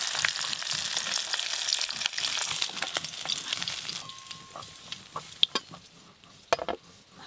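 Fish frying lightly in a pan, a close hissing sizzle that fades gradually, broken by clattering knocks of utensils near the end, no speech.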